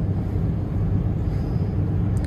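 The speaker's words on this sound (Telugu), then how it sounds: "స్టార్ట్ అయింది ట్రైన్." Steady low rumble fills a German train carriage as it starts to move, heard from inside, close and even, with no voices over it.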